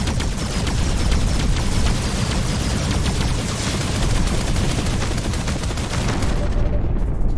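Sustained gunfire from Terran fighters in the space combat game Arc Savior, a dense continuous roar of shots and blasts holding steady and loud throughout.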